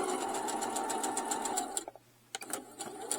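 Sewing machine running a steady straight stitch with turquoise thread at a 3.0 stitch length, a continuous close whir lasting under two seconds, then a brief pause and a few short bursts of stitching.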